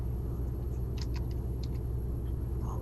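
A Peterbilt 389 truck hauls a heavy load in Euro Truck Simulator 2, its engine a steady, deep burbling rumble that holds unbroken, with faint light ticks above it.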